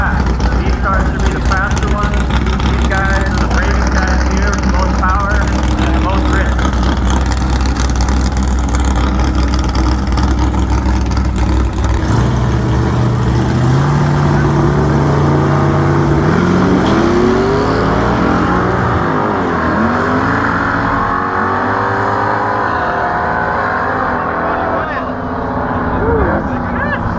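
A Chevy Nova and a Buick Regal in an outlaw-class no-prep drag race roar loudly at full throttle, engines revving and shifting as they launch and pull away, with an announcer talking over the racket.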